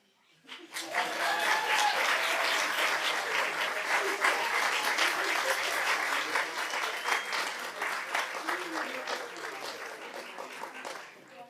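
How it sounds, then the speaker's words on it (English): Loud, sustained audience applause fills a school board meeting after a Latino heritage song performance, swelling quickly and holding steady before gradually thinning toward the end. "Give you one more round of applause."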